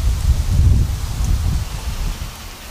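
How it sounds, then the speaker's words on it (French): Wind blows steadily outdoors beside a smouldering stalk of giant fennel (Ferula communis), heard as a loud, continuous low rumble and buffeting across the mic with a rustling, rain-like hiss above it. "c'est vrai qu'il y a un peu de vent aujourd'hui"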